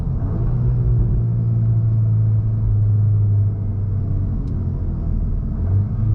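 A Volkswagen MK8 Golf R pulling away under launch control, its engine giving a steady, deep, loud rumble close to the car, with no talking.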